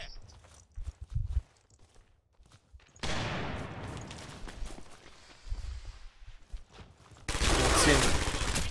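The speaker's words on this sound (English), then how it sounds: "I'm throwing a grenade." Grenade thrown in a war video game, with footsteps and scattered shots before a loud burst of explosion near the end, blasting over the general battle noise.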